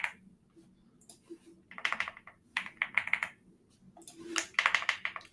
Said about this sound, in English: Sorry for my keyboard, if you can hear that.